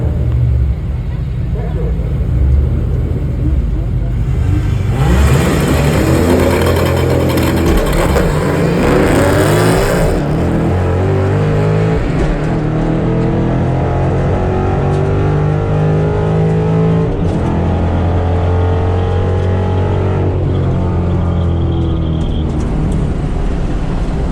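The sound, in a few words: Boss 302 3-valve Mustang accelerating on 125 shot nitrous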